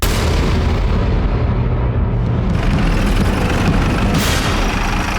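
Explosion blast in a house kitchen, a loud, sustained roaring boom that fills the whole clip with heavy low rumble and debris-like noise, with no talk.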